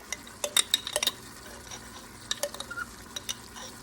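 Onions and jarred minced garlic sautéing in an Instant Pot, a faint low sizzle under scattered sharp clicks and scrapes of a utensil against the pot, in short bursts.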